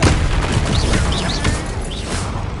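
A Bombarda explosion spell from Hogwarts Legacy goes off as a loud, close boom. Crashing, rumbling debris and magical whooshes follow right after.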